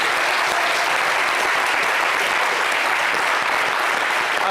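A television studio audience applauds loudly and continuously, dense clapping from many people filling the room without pause.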